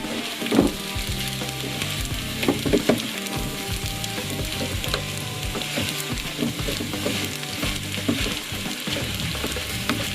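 Sticky rice and sugar sizzle steadily in a hot pan over low heat, a continuous bright frying hiss broken by occasional soft scrapes and stirring knocks, close and alone without talk.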